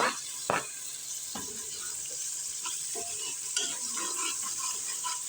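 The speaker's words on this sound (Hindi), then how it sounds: "टमाटर भी इसी के साथ ही हम अच्छी तरह से भून लेंगे।" Tomatoes frying with ginger, garlic and chilli for dhaba-style dal, a continuous moderate sizzle broken by repeated scraping stirs of a spoon against the pan.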